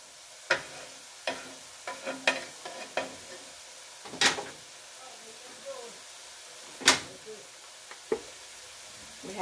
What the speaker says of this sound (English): we're just going to brown this ground turkey